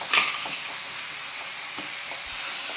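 Tomatoes for a chicken kurma sauté in a pan, giving a steady soft sizzle and crackle with a few faint stirring scrapes, heard alone without voices.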